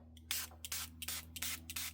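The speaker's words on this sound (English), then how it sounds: "I'm just gonna spray a little bit of water" Water from a hand spray bottle misted onto a journal page: six quick, close hissing spritzes in an uneven rhythm over a low steady hum.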